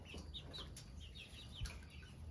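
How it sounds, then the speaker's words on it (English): Rooster clucking among backyard chickens at feeding time, soft intermittent calls over a steady low background, fairly quiet and not close. "So it looks like we have one rooster."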